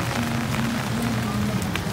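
Cold rain falls steadily outdoors, a dense even patter under a voice that hums and speaks nearby.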